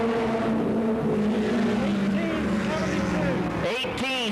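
A 1988 M&R Racing Chevrolet number 45 Goody's Dash stock car runs a qualifying lap at Anderson, South Carolina, its engine droning and rising in pitch, then roaring loudly past near the end, under an announcer's commentary.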